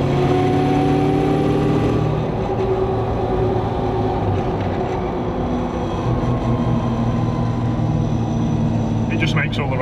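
A Land Rover Defender's supercharged LSA V8 engine runs loud and close with a deep, steady rumbling roar that holds its tone throughout.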